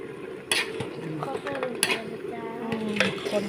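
Stir-fried eel tossed in a pan with a spatula or ladle, giving scattered metallic scrapes and clinks over a low background hiss while someone talks throughout.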